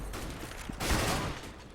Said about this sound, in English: he certainly hears the gunfire.